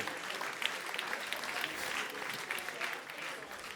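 An audience at a festival grand opening applauds a prize winner, a fairly quiet, distant-sounding patter of many hands clapping steadily for a few seconds.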